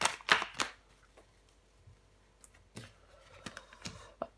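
A tarot card is laid down over another, a few soft brief card slides and taps at close range, mostly in quiet with no talk.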